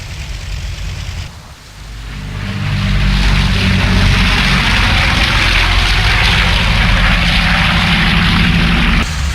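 A C-47 Skytrain's twin propeller engines drone loudly during a landing approach in IL-2, throttling up after a brief dip into a steady, close roar with a dense low throb that holds to the end.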